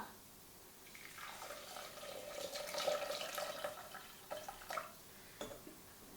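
Water is poured into a cooking pot already holding lamb broth for a Moroccan couscous dish, a soft splashing stream that swells and then trails off into a few faint drips, with no talk.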